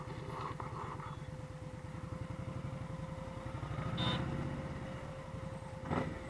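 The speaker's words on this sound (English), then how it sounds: "this one is running a stage 1 exhaust from Indian motorcycles" An Indian Scout motorcycle fitted with a stage 1 Indian exhaust runs steadily and close by, its engine thrumming in a continuous low pulse with a slight swell around the middle, and no voices over it.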